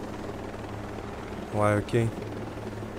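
A helicopter in the video game Ghost Recon Breakpoint drones steadily with a constant rotor hum throughout, while someone speaks briefly over it.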